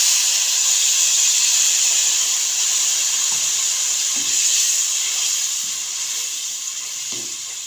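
Milk poured into a pan of browned vermicelli for creamy seviyan sets off a loud, continuous steamy hiss that holds steady for several seconds and then slowly eases, with faint clinks underneath.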